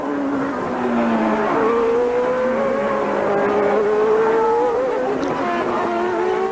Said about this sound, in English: more worried about this man, Nigel Mansell, as he pulls out of the slipstream and laps Stefano Modena